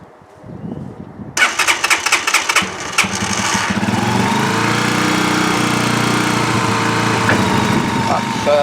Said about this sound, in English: That's why it started revving high.